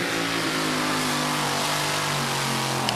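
The biggest Chevrolet engine roars at a 2007 French drag racing qualifying session, a loud, sustained, close engine drone with a slight pitch shift and no pauses.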